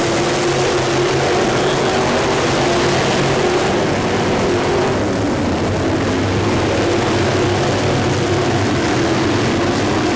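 Race cars at a local dirt-track race roar continuously and loudly around the circuit, a dense, unbroken engine drone with no break or pause.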